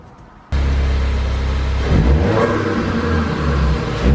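A Ford Focus RS fitted with a Mountune uprated recirculation valve starts up abruptly and revs hard, a loud, close, deep engine roar that swells and surges through several throttle blips with no talking.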